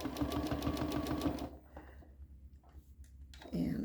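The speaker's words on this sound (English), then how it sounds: "So I'm bringing up my bobbin thread, and I'm going to begin to stitch." A sewing machine doing free-motion stitching on a quilted table runner, a fast rhythmic close-up run of needle strokes for about a second and a half that then stops, with quiet talk afterward.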